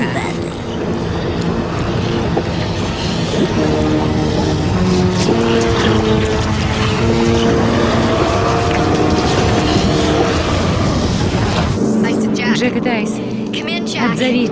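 A cartoon aircraft flies through a storm: a loud, continuous engine and propeller drone mixed with rushing wind, carrying steady musical tones, then cutting off sharply near the end.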